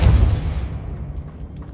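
Depulso spell cast in Hogwarts Legacy: a single heavy, booming magical blast that hits loud at the start and then rumbles down into a low decaying tail, with no talking.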